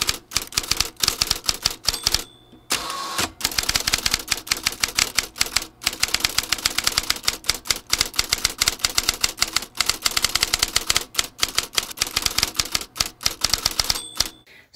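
Flower pounding with a hammer onto printer paper or cardstock, a children's craft: dense, rapid, sharp taps repeating steadily and loudly throughout, with only a brief pause near the start.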